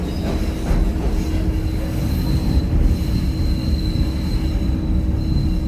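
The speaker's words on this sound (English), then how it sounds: "there's a train going through there." A Chicago Green Line elevated train passing through the South Side, a loud continuous rumble of wheels on rails with steady high squealing tones throughout, no talk.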